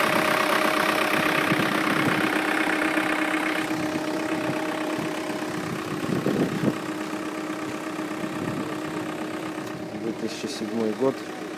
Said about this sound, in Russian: Слышите, как работает двигатель?